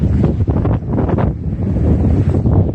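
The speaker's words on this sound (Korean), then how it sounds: "아 여기 바람 좀 불어요" Strong wind buffets the microphone on the rocky Yongduam coast of Jeju, a loud, continuous, gusty roar with surf likely mixed in beneath it.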